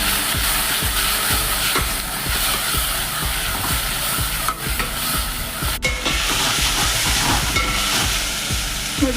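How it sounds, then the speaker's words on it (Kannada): Chopped tomatoes frying in a pan for tomato sambar, a steady loud sizzle and hiss with repeated scraping taps of stirring, no talking. "ಇವಾಗ ಹೆಚ್ಚಿಟ್ಕೊಂಡಿರೋಂಥ ಟೊಮೊಟೊ ಹಾಕೋತಾ ಇದ್ದೀನಿ. ಟೊಮೊಟೊ ಮೆತ್ತಗಾಗೋ ತನಕ ಫ್ರೈ ಮಾಡ್ಕೋಬೇಕು."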